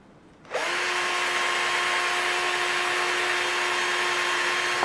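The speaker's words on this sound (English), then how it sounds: "So I'm just going to drill straight through the center there." After a brief quiet moment, a power drill whirs to life and runs steadily at a high, constant pitch, drilling straight through the center of a clear shoe heel, close and loud.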